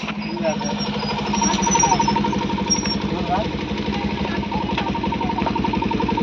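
A motorbike engine runs close by with a rapid, even chugging pulse throughout. A voice talks over the engine noise.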